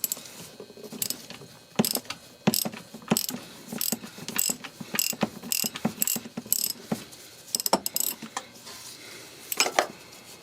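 A socket ratchet on a 19 mm socket loosens the coolant temperature sensor on a 2010 Kia Soul. Close, crisp pawl clicks come in irregular bursts with short pauses, and a few metallic clinks fall between them.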